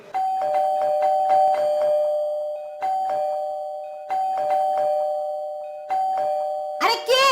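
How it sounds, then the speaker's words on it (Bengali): A doorbell chimes over and over in quick bursts, four loud rounds of ringing tones separated by short pauses, followed by a brief voice at the end. "এত কলিং বেল দিতে হয় নাকি? এত বেল দেওয়ার কি আছে?"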